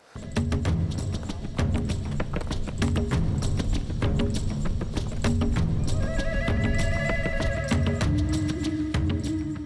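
Horses walking along a path toward a hidden village, their hooves clip-clopping in a steady, close rhythm that continues throughout, with a few faint whinnies and tones rising in the background.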